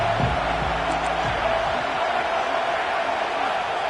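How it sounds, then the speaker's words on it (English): Stadium crowd at a Florida college football game, a steady broad roar filling the air without sharp peaks, with a commentator's voice briefly over it at the start. "This crowd ready to make its presence known."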